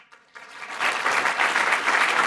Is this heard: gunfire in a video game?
no